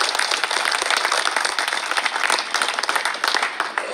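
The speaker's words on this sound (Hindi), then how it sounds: "शुभ दिन है मेरे भाई, ताली बजाइए" Protesters at a sit-in over exam results clap together in a lively, uneven patter of many hands, loud and close, with a few faint voices underneath.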